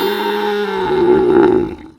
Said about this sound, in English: Donkey, donkey.